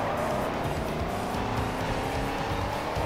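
A race car in the video game GRID 2 roars continuously, its engine droning steadily with a tire-squeal edge as it is wrestled through turns. The sound is loud and close throughout, with no speech.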